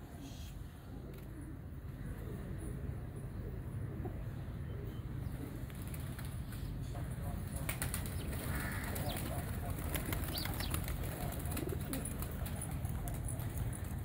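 Tumbler pigeons coo softly and repeatedly against a steady outdoor background, with occasional rustles and knocks nearby.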